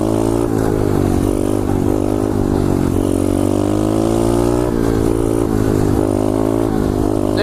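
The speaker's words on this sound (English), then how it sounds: "Might as well hit some second gear wheelies." A pit bike engine revs hard and holds a high, buzzing drone through second-gear wheelies on an empty road, loud and close for the whole stretch, with slight rises and dips in pitch.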